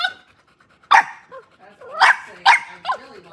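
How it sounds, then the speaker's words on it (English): A Boston Terrier barks a few sharp, close yaps at another dog, spaced irregularly with quieter whimpers and grumbles between them. "barking at the dog"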